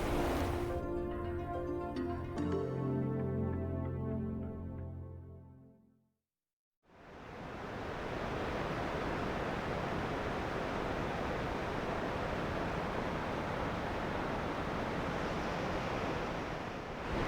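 Rushing river current in the Henry's Fork canyon: a steady, loud broadband roar of flowing water that runs unbroken for about ten seconds, after a few seconds of tonal music and a brief silent gap.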